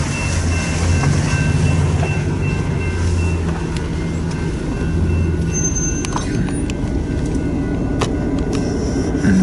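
A hooked-up freight train sits airing up its brakes before departure in freezing weather, a loud, constant low rumble of idling engines with hissing air and faint metallic clicks running throughout.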